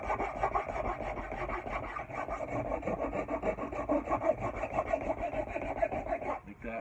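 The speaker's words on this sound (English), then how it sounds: "I go switch over to the Nicholson wood rasp. I'm just going to smooth it out so it rolls nice and smoothly into the handle." A Nicholson wood rasp scrapes along a wooden axe handle in steady, rapid back-and-forth strokes, a coarse continuous rasping that runs loud and close without a break for nearly seven seconds, with no talking.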